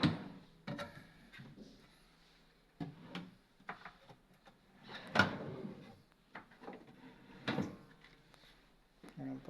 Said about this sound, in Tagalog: Ayan po yung mga drawer box.